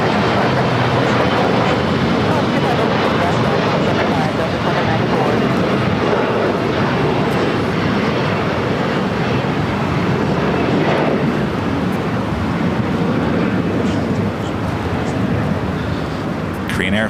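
Delta Airlines A330neo jet taking off at LAX, a loud, continuous engine roar with a broad rushing rumble holding steady throughout, a voice talking over it.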